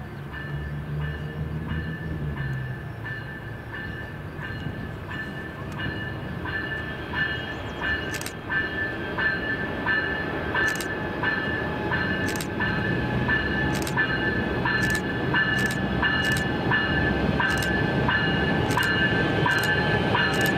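A Canadian National freight train rolls past steadily for about twenty seconds on the St Lawrence & Atlantic line in Montreal's South Shore, with a constant loud rumble and a rising series of sharp rhythmic wheel clicks over rail joints.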